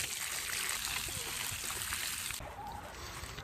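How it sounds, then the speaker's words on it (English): Water poured onto newly planted raspberry plants in garden soil, a steady trickling and splashing stream that carries on throughout, dropping slightly in level near the end. "You want to water them in real good."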